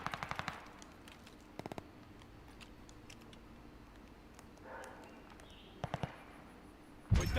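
Gunfire in the shooter game Call of Duty Vanguard, short rapid bursts of automatic fire at a distance separated by quiet stretches, then a louder, closer burst at the end.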